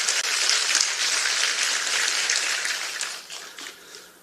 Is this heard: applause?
yes